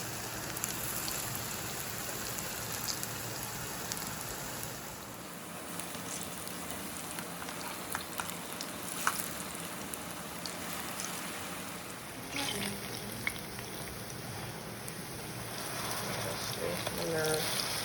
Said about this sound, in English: gently lower the plantain slices in the oil and allow them to fry until they are absolutely